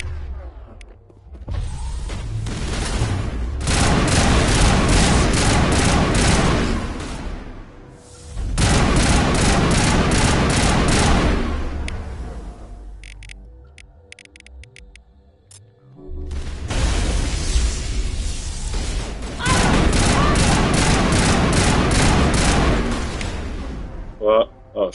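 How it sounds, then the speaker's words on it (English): Long bursts of machine gun fire in the video game Mass Effect come loud and dense in three sustained volleys separated by short gaps with faint mechanical noise between them. "Use the machine gun."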